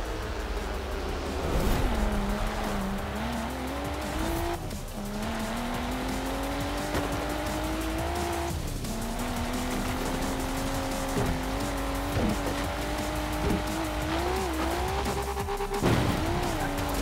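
Nissan GT-R racing in Forza Horizon 4, its engine droning and shifting pitch steadily with tire squeals and skids, loud and continuous throughout.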